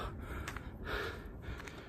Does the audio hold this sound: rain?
no